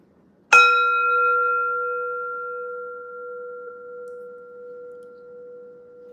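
A single bell-like tone struck once and left ringing, a clear sustained pure hum that fades slowly over several seconds in a quiet room.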